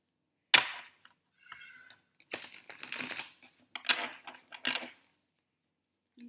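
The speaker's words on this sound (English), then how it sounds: "So just this last shuffle" Tarot cards are shuffled in quick, crisp bursts of riffling and slapping, close and fairly quiet, with short pauses between passes and no talking.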